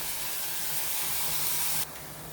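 Meat with onions frying in a pot gives off a loud, dense hiss and sizzle that holds steady, then drops abruptly to a quieter simmering fizz near the end.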